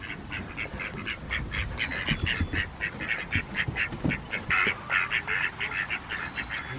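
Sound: ducks quacking

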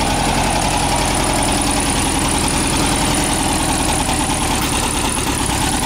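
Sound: 1968 Volkswagen Beetle engine idling after cold start

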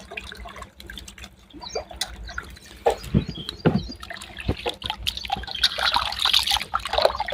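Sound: potato slices put into water

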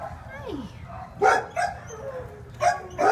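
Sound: dog barking at animal shelter

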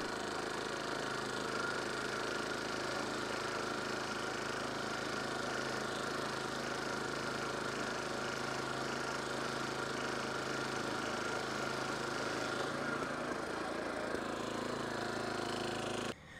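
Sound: lawn mower mowing stripes in a Bermudagrass lawn

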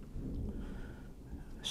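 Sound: distant thunder

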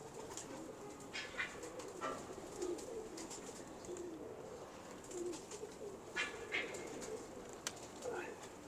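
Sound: pigeons cooing

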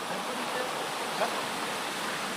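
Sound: water flowing down a small channel

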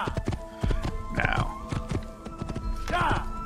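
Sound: horse hooves clip-clopping in the video game Assassin's Creed

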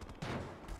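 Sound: gunfire in the video game GTA V

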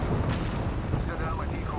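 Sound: gunfire in the video game Apex Legends

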